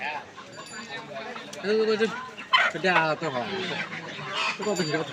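Desi chickens cluck and squawk at a live poultry market, a loud burst of calls near the middle over constant haggling voices and crowd chatter.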